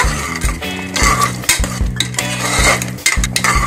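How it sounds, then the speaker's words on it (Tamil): Thick coconut milk is stirred into mango pachadi in a metal pan, with loud, close, rhythmic spoon scrapes and clinks against the pan repeating in quick strokes. "சேர்த்து எல்லாத்தையும் மிக்ஸ் பண்ணிடுங்க."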